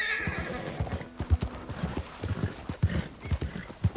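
A horse in the video game Red Dead Redemption 2 gallops with steady, close hoofbeats in a quick rhythm, while a whinny rises early on and plays above the thudding steps.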